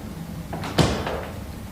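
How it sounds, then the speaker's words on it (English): A door is pushed shut indoors, a single soft thud with a brief rattle, preceded by faint shuffling and followed by quiet room tone. "let me shut the door."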